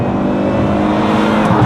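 A 2015 Volvo V60 Cross Country accelerates hard from a standstill on a track, its engine producing a loud, steady, close roar that holds for under two seconds.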